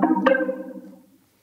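A synth patch loaded in the Glitter grain plugin plays a single sustained tone with a bright attack partway in, then fades out to near silence.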